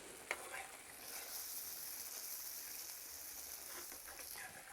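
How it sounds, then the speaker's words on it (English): Chickpea curry simmers in a pan over lowered heat, a soft continuous sizzle and bubbling hiss with an occasional light scrape of a utensil, quiet and close, without talking. "Now we're going to take our heat down and we're just going to simmer it for a couple of minutes."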